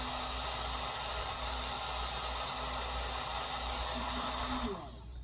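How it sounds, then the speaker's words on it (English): A heat gun blows hot air over freshly powder-painted fishing lure heads, making a steady, close whooshing hiss with a faint motor hum. Near the end the motor's pitch slides as the gun shuts off and the sound drops away. "Let's turn the heat gun on."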